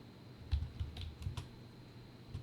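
A few soft, close keystrokes on a computer keyboard while entering a comment into school ledger software, faint clicks over low background hum.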